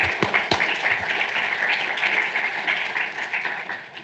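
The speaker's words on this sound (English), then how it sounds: "give yourself a round of applause" Families in a symposium audience applaud, a steady, fairly dense round of clapping with a few crisp nearby claps early on, continuing without talk.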